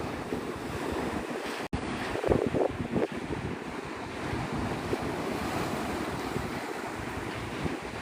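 Onshore wind blows toward the beach at sunrise at Navarre Beach, a continuous broadband rush mixed with surf and buffeting on the microphone, steady and fairly loud, with no voices.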